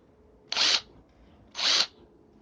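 A Lidl 20-volt cordless impact wrench runs in two short, even bursts of high whirring, each lasting about a quarter second, close by with quiet between them.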